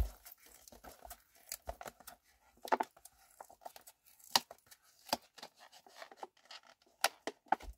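A package is torn and opened by hand, a run of close, sharp tearing and crinkling bursts in an irregular rhythm against near silence, with no talking.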